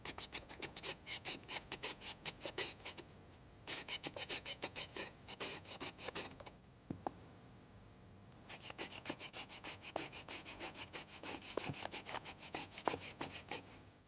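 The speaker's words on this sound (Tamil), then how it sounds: "அதனால இந்த ஜூலியன் கட்டர் இந்த மாதிரி கிடைக்கும் மார்க்கெட்டில்." A julienne cutter shreds vegetables into thin matchstick strips, making bursts of rapid, rhythmic rasping scrapes close by, with a short pause in the middle before the steady strokes resume.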